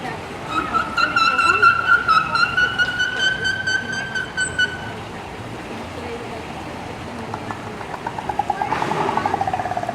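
Tuar, a killer whale at SeaWorld Texas, gives a series of nasal squeaks and rising whistles near the start. These are followed by quieter clicks and splashing, with crowd noise in the background.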